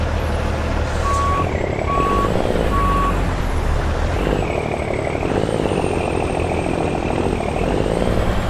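A Viper 389 Custom truck in American Truck Simulator reverses with three evenly spaced reversing beeps over a loud, steady engine drone that keeps rumbling after the beeping stops.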